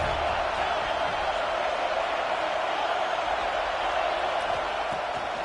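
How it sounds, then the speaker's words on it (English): A home crowd at a football game against Florida roars in a steady, dense, sustained wall of noise from a large stadium, with no letup across the stretch. "how nice is it to have the home crowd going absolutely bananas?"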